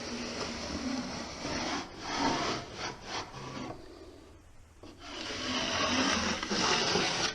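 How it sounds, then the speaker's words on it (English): A corner trowel smooths a drywall corner with a continuous, close scraping rasp that rises and falls over several strokes. It dips briefly near the middle before resuming. "My index finger right here in the middle of the corner trowel, just going to go up."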